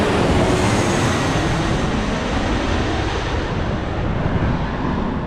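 A low-flying plane coming in to land passes close overhead, a loud, steady broadband engine roar that holds for the whole moment with no break.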